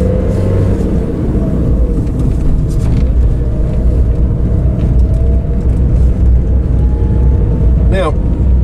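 A car drives along a country road in France, giving a loud, steady engine and road rumble from inside the cabin, with a brief higher whine near the end.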